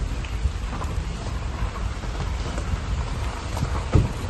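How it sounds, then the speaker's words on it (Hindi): Steady, dense rain pours down with a constant hiss and scattered heavier drops, with no voices, at the Dhikala entry gate of Jim Corbett National Park, India. "पूरी तरह बारिश हो रही है।"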